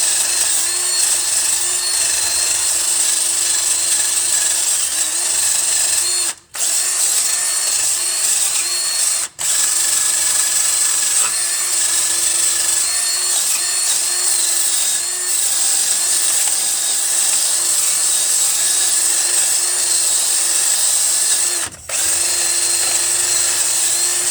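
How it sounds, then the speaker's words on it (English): A wire brush scrubs front suspension parts of a 2004–2007 Toyota Highlander FWD during a driver-side front end rebuild, making a steady, loud, continuous bristly scraping with brief pauses, and no one talks. "So I have a wire brush here that I'm just going to clean everything with."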